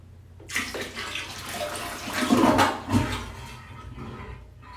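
Water poured from a bucket into a toilet bowl flushes it, a splashing gush that builds over a couple of seconds and then fades into trickling.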